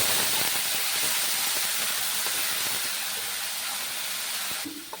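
Ground onion and green chilli paste frying in hot oil for a Bengali rui posto fish dish, a loud, steady hiss and sizzle running for several seconds close up before easing slightly at the end, with no talk over it.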